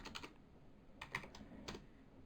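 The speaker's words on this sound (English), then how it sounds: "I can go in and type a particular angle" Typing a rotation angle into 3ds Max on a computer keyboard, a few quiet, close keystrokes in two short clusters over a low background hum, with no talking.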